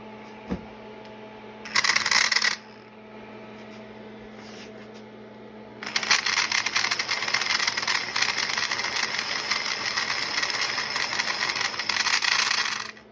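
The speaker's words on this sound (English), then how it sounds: "Now let's see what happens when I turn the drill on." A power drill whirs steadily, spinning long dryer vent cleaning rods with a dense, rattling mechanical buzz, after a brief burst of motor noise and a quiet pause.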